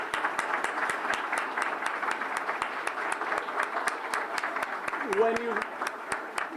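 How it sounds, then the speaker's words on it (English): Audience applause at a United Way community impact award nominations event, steady clapping that fills the whole stretch, with a brief voice rising briefly near the end. "So, round of applause for that."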